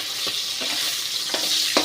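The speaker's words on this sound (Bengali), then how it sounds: "আর এখানে ল্যাটা মাছটা ভাজা হচ্ছে।" Lata fish frying in a pan with oil, a steady bright sizzle. A few soft stirring or turning scrapes break in at intervals.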